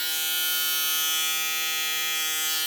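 TPOB GO electric shaver with a 10,000 RPM motor running alone close up, a steady high-pitched whirring buzz that holds constant for the whole stretch.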